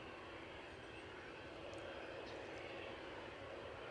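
A 13-year-old Embraer 190 airliner on a London City flight at Edinburgh gives a steady, broadband engine roar that stays even and moderately loud throughout, with no voices.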